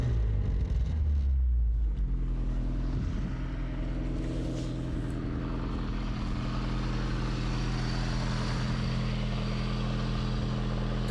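Abandoned Lamborghini in Fortnite, engine running at a steady low rumble throughout, even and moderately quiet, with no talking.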